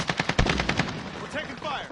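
Rapid automatic gunfire in the Call of Duty Warzone video game: a loud, close burst of fast-repeating shots for about a second that fades into softer game ambience.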